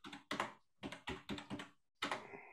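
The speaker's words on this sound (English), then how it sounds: "Do you hear my keyboard clicking?" Close computer keyboard keys clicking in a quick, uneven burst of about six keystrokes, each crisp and fairly loud, with short pauses between them.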